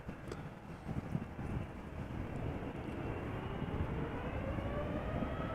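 Steady jet roar of a seven-year-old KLM Boeing 787-9 Dreamliner departing Amsterdam Schiphol Airport for Bogota, a continuous low rumble heard from a distance with wind buffeting the microphone.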